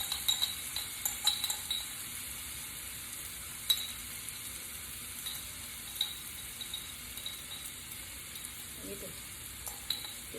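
Garlic sizzling in a pan, a steady soft hiss of frying with faint clinks of utensils and light stirring scattered throughout, heard without talk.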